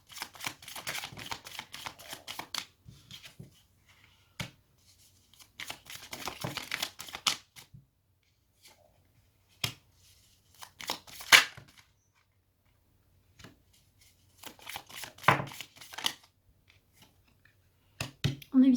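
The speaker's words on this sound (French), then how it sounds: "On va recouvrir maintenant avec l'oracle de Béline." Oracle cards being laid out and handled during a tarot-style reading, heard as bursts of soft crinkling, rustling and card shuffling with sharp flicks and slaps, separated by quiet pauses, close and fairly faint.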